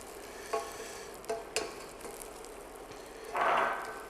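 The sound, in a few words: butter added to caramel in saucepan for popcorn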